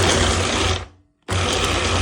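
An electric kitchen chopper, used in place of a blender, whirs loudly while mincing fish and bread for fish cutlets. It cuts out for a brief pause, then starts again at full speed.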